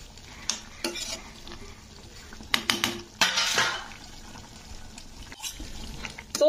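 A utensil stirs and scrapes a mixture in a pan on the stove, with sugar and chopped coriander just added: irregular clinks and scrapes against metal, a few louder bursts, and faint sizzling underneath, close and alone.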